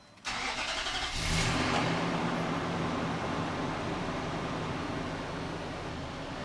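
A Nissan Titan pickup's engine cranks and catches, flaring briefly in revs before settling into a steady, close idle.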